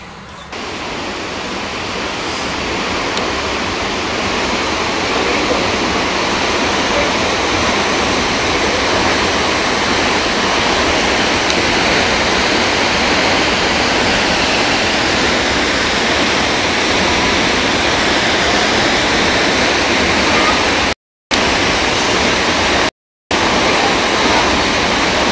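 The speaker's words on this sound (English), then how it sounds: "I see a waterfall." A waterfall roars loud and steady, a dense unbroken rush of falling water that continues throughout, cut by two brief dropouts near the end, with no voices.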